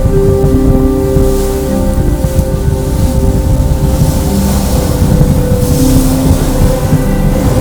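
Motorboat ride across choppy sea off Pattaya, Thailand, heading toward Coral Island, with a loud steady engine drone and rushing water and wave slaps throughout, no voices.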